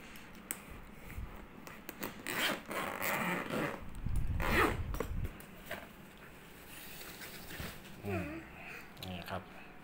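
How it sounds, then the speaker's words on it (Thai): Zipper being pulled open on the carry bag of a Yamaha PSR-S950 keyboard, a series of scratchy rasping bursts at moderate loudness with someone talking over and between them. "ก็เปิดซิปมานะครับ"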